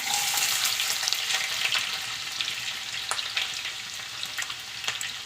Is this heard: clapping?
no